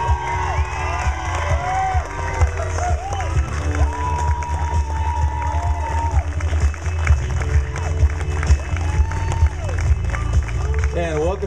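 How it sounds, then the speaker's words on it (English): Wedding guests at a reception cheer and clap for the newlyweds, a steady crowd roar with whoops and shouts running through the whole stretch, while music plays underneath. "Let's give a nice big round of applause"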